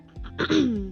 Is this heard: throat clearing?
yes